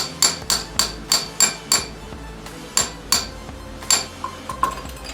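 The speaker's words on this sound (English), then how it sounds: "Put the extension on the end of that axle and tap on it." Hammer blows ring out in a rapid series of sharp metallic taps on an extension set against the rear axle of a Harley-Davidson Sportster, with short pauses between bursts and some clinking.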